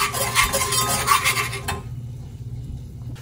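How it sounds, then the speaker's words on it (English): A spoon scrapes and stirs a homemade sauce of apple cider vinegar in a bowl, a quick rhythmic scraping for about two seconds that then stops abruptly. "Stir that up."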